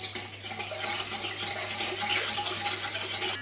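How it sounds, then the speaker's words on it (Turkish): Crumbled yeast is stirred by hand into sugar and liquid in a bowl for simit and poğaça dough, making a continuous close, wet swishing rustle for a few seconds, with no voices. "Şöyle bir karıştırıyorum mayam erimesi için"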